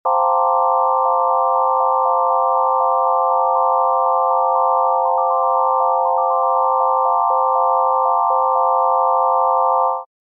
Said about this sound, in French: Dans cette illusion, 7 notes vont être jouées en même temps, puis vont être coupées rapidement à tour de rôle.